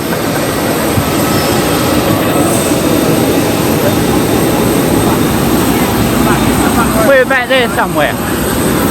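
An easyJet airliner's jet engine roars loudly and continuously beneath the wing at Luton Airport, a steady broadband rumble with wind buffeting while a person briefly speaks over it.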